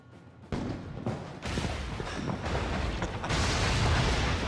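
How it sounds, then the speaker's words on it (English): A bomb goes off in the video game Assassin's Creed Syndicate, a sudden loud burst followed by rumbling, crackling debris and a sustained roar that swells toward the end, with no speech. "cool guys, don't look at explosions."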